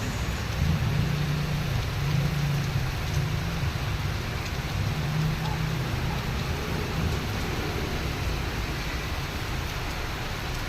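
Vehicles in traffic on a flooded street outside an office, heard as a steady rushing wash of engines, tyres and water with a low rumbling hum, continuous and moderately distant, without speech.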